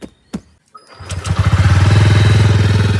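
A motorcycle engine cranks with a few clicks and sputters, then catches and settles into a loud, steady, close idle throb.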